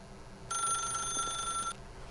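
An electronic telephone rings in The Stanley Parable, a single sustained bright trill lasting just over a second, loud and clear over a quiet background hum.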